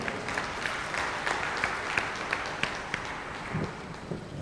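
An audience at a golden jubilee celebration of a bank officers' association breaks into applause, a dense, steady round of clapping with sharp individual claps standing out throughout.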